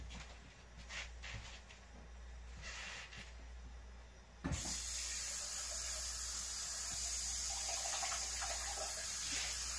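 Water is poured from a tap into a pan of frying hamburger meat, a sudden loud rushing hiss that starts partway through and holds steady to the end after a quieter opening.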